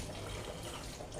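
Water pours steadily into a cooking pot for Jamaican callaloo rice with gungo peas, a brief close rushing splash with no talking.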